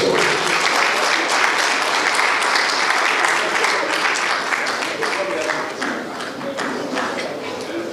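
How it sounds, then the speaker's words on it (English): Sustained audience applause at a regional development ministry press briefing, dense steady clapping filling the room for several seconds at even loudness, with a few voices faintly under it. "Please round of applause."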